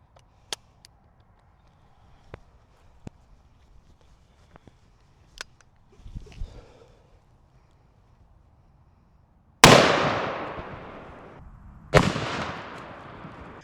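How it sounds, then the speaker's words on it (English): Two heavy .500 Magnum rounds firing 350 grain Hornady bullets into a Tesla battery, each a sharp, loud outdoor blast with a long rolling decay, preceded by faint scattered clicks and handling noises. "we're moving up to our 500 Magnum. Shooting some 350 grain Hornady."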